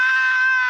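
A woman screams with rage in a single sustained, harsh, loud cry lasting under a second, with no other sound around it.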